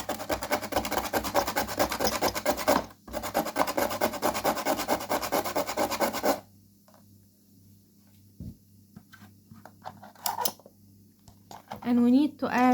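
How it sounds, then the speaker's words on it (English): A whole carrot is grated by hand in a kitchen, giving dense, steady rasping strokes for about six seconds, then a pause with faint scattered rubbing and a voice speaking near the end. "Then we need 1 carrot and we need to grate it like so."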